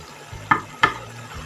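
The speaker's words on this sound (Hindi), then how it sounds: "ये अपने ही पानी में बहुत अच्छे से पक रही है" Spinach cooking in its own water in a pan gives a soft, steady sizzle, broken by two sharp stirring scrapes about a third of a second apart. No one speaks.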